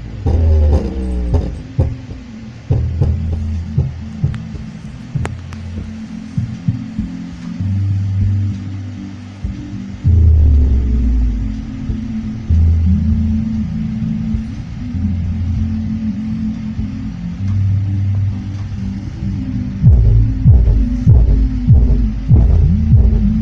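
A P-Audio 15-inch subwoofer lying flat on a surface plays a loud free-air bass test, producing heavy, distorted low throbbing notes that pulse in a repeating pattern with rattling buzz over them.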